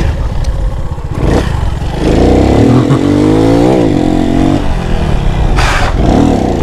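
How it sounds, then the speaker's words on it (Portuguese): Motorcycle engine close by in a neighbourhood street, idling roughly, then revved hard in rising and falling surges through the middle, with sharp bursts near the start and the end. "Essa moto é forte demais"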